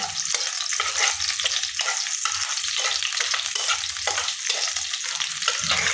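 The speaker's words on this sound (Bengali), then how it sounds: "এখন দিয়ে দিব সরষের তেল, কারণ ভর্তা তো সরষের তেল ছাড়া হয় না" Mustard oil is added to chilies frying in a pan for bharta, making a continuous close sizzle with a rhythmic pulsing texture, as if being stirred, throughout and with no voices.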